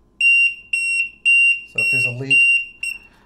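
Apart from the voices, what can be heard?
DIY dishwasher water leak detector alarm beeping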